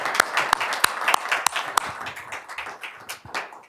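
Audience applause at a board of education meeting: sharp individual claps from a modest group ring out clearly in a brisk, uneven rhythm, thinning slightly toward the end.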